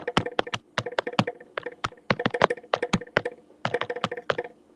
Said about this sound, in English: typing away on what sounds like a mechanical keyboard